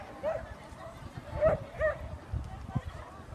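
A dog at an agility competition gives a few faint yips and short barks, spaced apart, heard distantly beneath a commentator's voice and event background.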